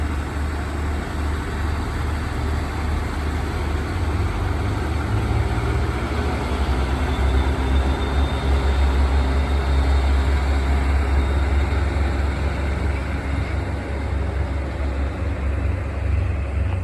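A Derry Londonderry train, unit 418, passes through Whiteabbey station with a loud, steady low rumble that holds evenly for the whole stretch, with no voices over it.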